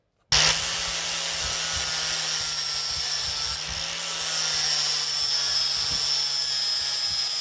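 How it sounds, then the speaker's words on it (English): An angle grinder works steadily on a metal lip of a part during a build, a loud sustained abrasive whine with a low motor hum that starts abruptly and holds for several seconds. "So, we're just going to grind that lip down right now."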